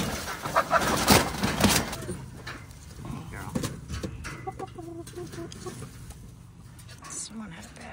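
Wild turkeys being handled for banding give close, sharp clucks and rustling flaps early on, then quieter scattered calls while people talk nearby.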